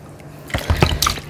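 Clean water being poured or splashed into a bowl, a short burst of drips and liquid splashes close by after a moment of quiet.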